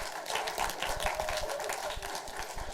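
Audience applause at a comedy reading event, a moderate burst of scattered clapping heard from within the crowd, fairly even throughout with no talk over it.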